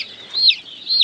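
Baby chicks on a farm cheep in high, thin repeated calls, two clear rising chirps standing out close by over a quiet background.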